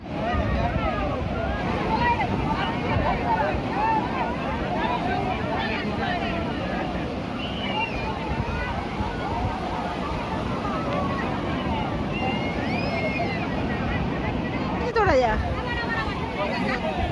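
Sea waves wash along the beach at Puri, a constant broad roar of surf and wind with a crowd's murmur and voices blended throughout.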